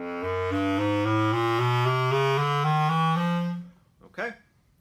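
A bass clarinet plays a smooth, lyrical legato phrase of sustained notes, close and solo, ending with a brief breath or release after the final note.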